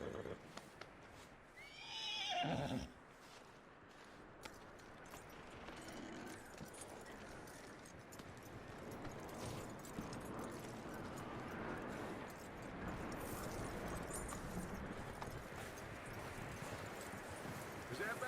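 A horse in the Red Dead Redemption 2 video game gives a loud, close whinny early on, followed by a steady bed of hoof clip-clop and movement noise that carries on for the rest of the stretch.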